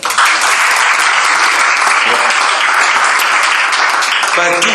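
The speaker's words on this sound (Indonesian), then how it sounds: "Tepuk tangan." An audience at a church gathering bursts into loud, dense applause that continues steadily for several seconds.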